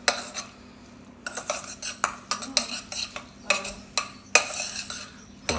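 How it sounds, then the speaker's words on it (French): Spoon stirring a thick, sticky low-protein arancini rice mixture made with egg substitute in a pot, irregular close scraping and clinking strokes against the metal, without speech. "On sort du feu, on arrête et on mélange bien."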